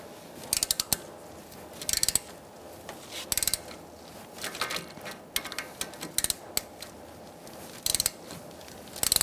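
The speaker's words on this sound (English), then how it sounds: "using a 12mm socket, we're going to loosen up our bolt bracket" A ratchet with a 12mm socket loosens the brake hose bracket bolt on a 2002-2006 Honda CR-V, making short bursts of rapid metallic clicking separated by pauses; close and clear, with no talk.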